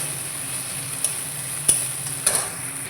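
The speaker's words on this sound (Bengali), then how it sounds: "এরপরে দিয়ে ভালো করে নাড়াচাড়া করে" Chopped tomatoes added to an aloo dum masala with ginger paste are stirred in a hot pan, a steady high sizzle broken by a few sharp scraping clicks of the spoon.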